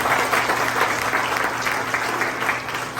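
A church congregation applauds during a Church of Christ service in San Pedro, a dense, loud, unbroken wash of clapping that lasts throughout, with no voices over it.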